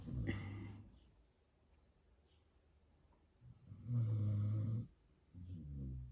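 Slow, deep snoring close by, a few long rumbling breaths separated by quiet pauses, loud and rattling on each inhale.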